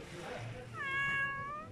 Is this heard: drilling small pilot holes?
no